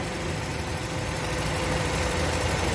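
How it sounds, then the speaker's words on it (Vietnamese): The 2.4 engine of a 2007 Chevrolet Captiva idles with a steady, smooth low rumble and a continuous even hum, close and unchanging with no talk. "Máy nổ êm lắm."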